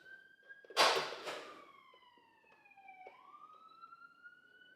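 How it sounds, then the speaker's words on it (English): An emergency vehicle siren passes outside, its wailing tone sliding slowly down, then rising again, heard faintly at a distance with a couple of nearby thumps early on. "You may just hear the longest siren ever going past"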